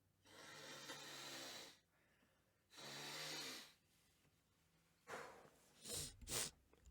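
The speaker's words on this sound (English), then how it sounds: "I gotta go blow my nose." Several breathy, forceful nose blows in separate bursts, the last ones short and sharp, close by with no talking.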